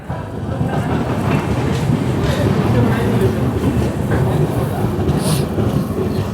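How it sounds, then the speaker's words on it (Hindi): The 22847 Visakhapatnam–Mumbai LTT express train runs steadily, a loud, dense rumble and rattle of wheels and carriages heard from on board, with a brief higher squeal near the end. "बारह बजकर 20 मिनट पर हमारी ट्रेन निकली है मुनीगुड़ा से"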